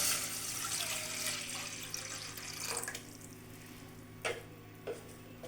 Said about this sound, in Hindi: कढ़ाई में मैं पानी ऐड कर देती हूँ।